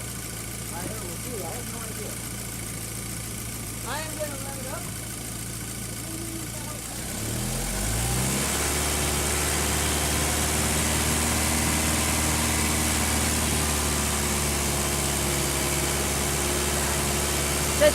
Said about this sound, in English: I am gonna rev it up.